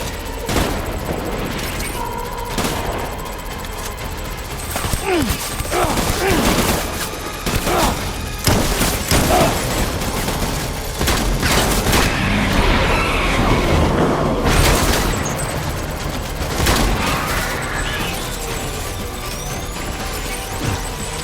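Heavy gunfire in the video game Death Stranding, a dense, loud, sustained fusillade of shots and booms lasting throughout, with sharp bursts layered over a continuous roar of battle.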